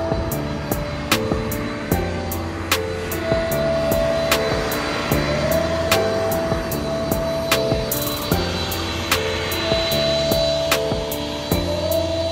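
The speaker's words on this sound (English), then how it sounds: "The plane you can see in the front is ANA." An ANA airliner viewed from the Haneda Airport observation deck, its steady jet engine roar filling the air, with sharp periodic clicks and a brief whine cutting through the drone.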